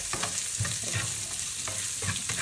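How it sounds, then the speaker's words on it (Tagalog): Bean sprouts and tofu sautéing in a small frying pan, a steady close sizzle broken by repeated scrapes and stirs of the spatula, with no talking. "Gisa-gisa lang."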